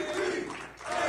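Basketball team cheers and applauds in a recorded game moment, a short, loud swell of crowd roaring and clapping.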